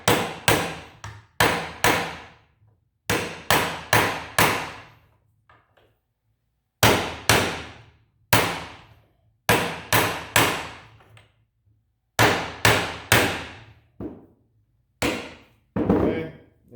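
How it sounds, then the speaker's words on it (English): A ball joint being driven into place with a maul for an American Star racing setup: a series of loud, sharp metallic strikes, mostly in quick groups of two to four, with short pauses between groups, close and alone. "This one fits perfectly over the top. So I'm gonna beat it down till it"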